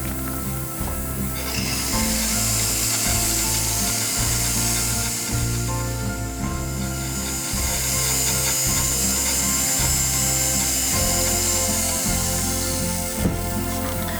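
White gold jewelry is polished with polishing compounds on a machine, a steady loud whirring and rubbing drone with a constant low hum throughout and no speech.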